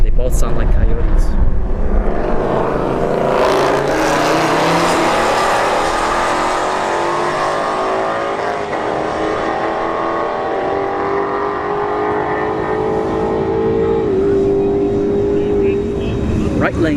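Two Ford Mustang S550s with Coyote 5.0 V8 engines drag racing at a motorsports park, loud sustained engine roar rising in pitch as they accelerate, with someone talking over it.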